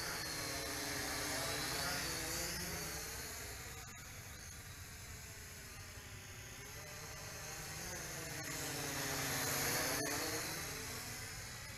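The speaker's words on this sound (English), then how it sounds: "Man, that's a big quadcopter once again." A Feilun FX122 camera/gimbal quadcopter drone flying nearby, its whirring rotors making a continuous buzzing drone that swells and fades in pitch and loudness as it maneuvers, with no talking over it.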